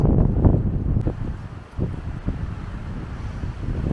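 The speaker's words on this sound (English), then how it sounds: "Excuse the wind, it seems to be windy everywhere we go at the moment" Steady wind roars and buffets against the microphone high on a lookout tower over wetlands in Hambra National Park, Sweden. The rumble stays continuous and loud with gusty swells throughout.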